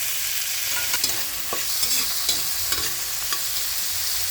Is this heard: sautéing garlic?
yes